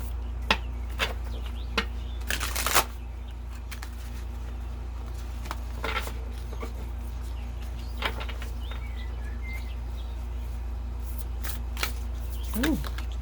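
Oracle cards being shuffled in the hands, with brief riffling bursts and soft slaps spaced irregularly over a low steady hum, close and fairly quiet.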